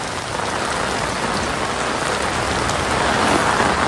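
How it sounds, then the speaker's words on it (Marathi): Heavy rain pours down steadily in a dense, even hiss on surfaces, loud and continuous throughout with no voices. "पाऊस बघा भाई साहेब."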